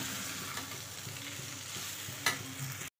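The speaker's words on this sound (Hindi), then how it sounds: "अभी पास्ता डाल देंगे इसमें और इसको अच्छे से मिला लेंगे" Pasta being stirred and mixed in a hot pan, a steady soft sizzle with scraping stir strokes throughout, one sharper clatter near the end, no voices.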